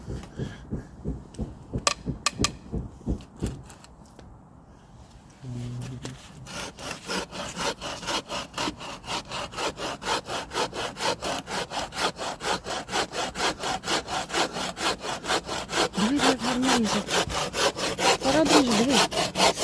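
A handmade hand saw works steadily through wood in a forest, a long run of even back-and-forth strokes that grow louder and faster after a brief pause near the start.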